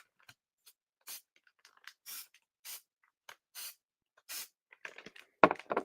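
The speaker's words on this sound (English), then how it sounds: "Gave it about 5 or 6 little sprays." G-Crack Bass Energy scent is sprayed onto fishing lures in about five short, soft hissing bursts at an even pace, followed by a louder rustle.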